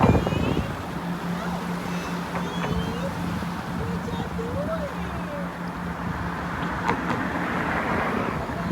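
A fishing charter boat's engine drones in the distance beneath steady wind and surf noise at Boynton Inlet, a low continuous hum across the whole stretch.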